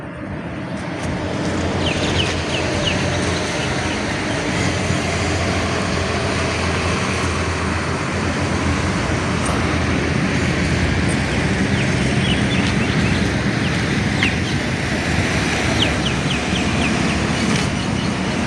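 Steady loud rumble of a train at Science City metro station, a continuous broadband roar with low hum, holding constant throughout with no voices.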